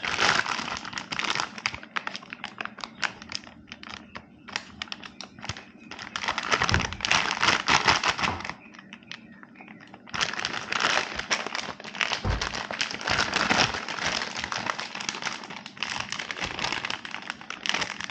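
Plastic packaging crinkles and crumples as motorcycle X-pipe exhaust parts for a 2022 Triumph Speed Twin are unwrapped, the rustling dense and close, coming in long bursts with a couple of brief pauses.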